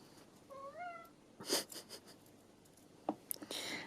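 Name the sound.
cat meowing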